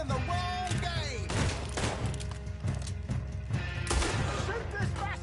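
Gunfire erupts in a Red Dead Redemption 2 shootout: a dense barrage of sharp shots and thuds layered with whistling ricochets, under shouted voices and continuous game noise.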